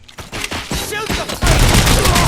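Bursts of gunfire in the RoboCop: Rogue City video game, a quick volley that swells into a loud, sustained barrage mixed with shouting voices.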